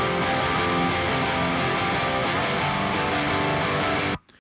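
Distorted punk rock electric guitar played through an Archetype crunch amp plugin modeled on the 5150, dry with no EQ, chugging loudly and steadily for about four seconds before cutting off abruptly.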